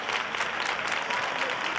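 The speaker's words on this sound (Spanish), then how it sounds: "Por favor. Este aplauso para José María Bernabé." Studio audience at a Spanish TV entertainment show bursts into dense, sustained applause, steady and loud from start to finish with a faint murmur of the crowd beneath the clapping.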